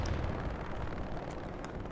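Artillery guns firing in the World War II shooter Hell Let Loose on the Utah Beach map, a dense continuous rumble of booming blasts and distant explosions rolling together with no clear gaps and no talk.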